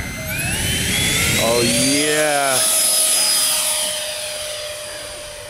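A HobbyKing Tornado Viper Jet model with a 75mm EDF on 6S power spools up to a loud, steady, close whine with a rising pitch sweep, then settles and slowly fades, a person briefly exclaiming over it.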